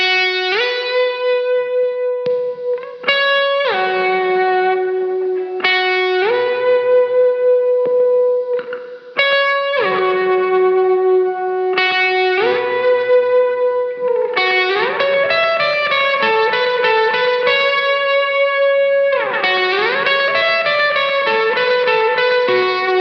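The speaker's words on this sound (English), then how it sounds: "what the 335 sounds like going straight into the overdrive section, then I'll kick on the slapback" Electric guitar, a Gibson ES-335, with overdrive playing sustained notes and chords, a short slapback echo trailing each note and a roomy reverb tail, steady and fairly loud.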